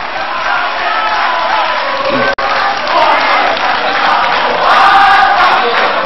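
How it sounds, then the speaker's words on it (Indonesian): Loud crowd applause and cheering from the audience at Indonesia's final presidential and vice-presidential candidate debate, a dense roar of clapping and shouts with a host's voice over it. "kita beri tepuk tangan untuk 2 pasang calon kita"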